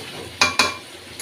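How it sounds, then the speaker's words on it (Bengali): A spoon stirs chicken kosha frying in oil in a pan, with two sharp, close scrapes against the pan over a soft background sizzle and a lighter scrape at the end. "তো এখন আমি একটু নাড়াচাড়া দিয়ে দিচ্ছি।"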